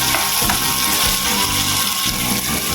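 Tomatoes sautéing in oil in a pan, a steady close sizzle with soft crackles and occasional scraping of a utensil stirring them, no voices.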